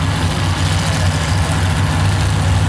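A high-horsepower nostalgia dragster engine idles at a drag strip, a loud, steady low rumble with a throbbing lope that carries on without pause and with no talk.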